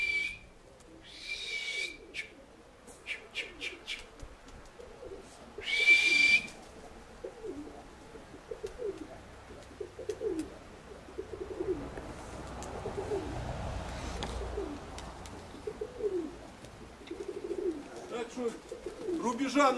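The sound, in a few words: pigeons cooing and flying at a pigeon keepers' yard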